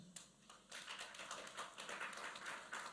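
Audience applause at a civil service week press launch, a dense spread of hand claps that starts with a few scattered claps and then swells into steady, fairly loud applause filling the room.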